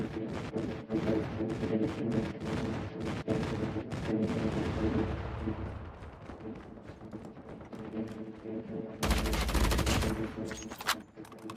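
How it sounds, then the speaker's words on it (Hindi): Heavy rumbling blasts and dense gunfire in Call of Duty during an airstrike, a continuous barrage of booms and shots with a loud, sustained blast near the end. "airstrike incoming"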